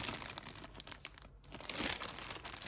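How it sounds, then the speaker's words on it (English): A plastic bag holding a SpongeBob-themed Nintendo DSi is handled up close, giving continuous crinkling and crumpling with a brief pause midway before it resumes. "inside a plastic bag so it prevents scratching"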